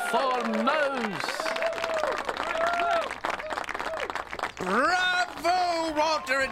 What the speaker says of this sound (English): Applause for Mouse.